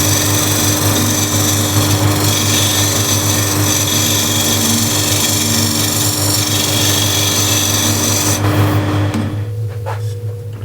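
A skew chisel shaves a spinning wood workpiece on a lathe, giving a steady, loud, close whirring scrape with no pauses that softens only in the final second.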